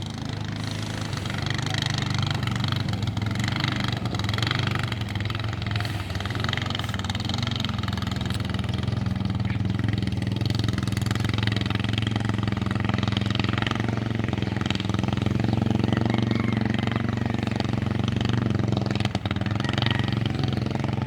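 A small racing boat's engine runs hard and steady during a boat race, a loud continuous droning roar with a rough buzzing texture that holds for about twenty seconds with no voices.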